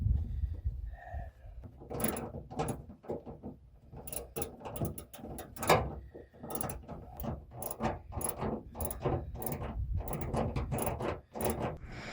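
A part is screwed onto the tailgate of a Toyota Tacoma, giving close, irregular bursts of clicking and ratcheting with short pauses between turns. No one speaks.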